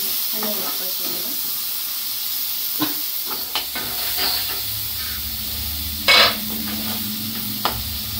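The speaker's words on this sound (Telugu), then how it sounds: "అలాగే ఒక టమాటా తీసుకున్నాం కదండి, టమాటా ముక్కలు కూడా వేసేస్తున్నాను" Tomato pieces and green chillies fry in a pan while being stirred, a steady close sizzle and hiss with scattered scraping clinks of the spoon against the pan throughout.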